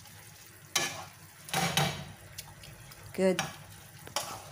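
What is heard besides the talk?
stirring spinach and mushrooms in a pan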